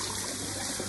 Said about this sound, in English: run the water over the dishwasher filter with the help of a cloth or a soft